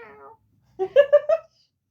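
A human voice imitating a cat's meow, one short drawn-out mew after a brief bit of talk, close and clear.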